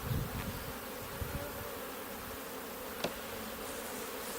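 Honey bees swarm around an open beehive during an inspection, giving off a steady, dense buzzing that fills the whole stretch, with a couple of brief nearby knocks or bumps.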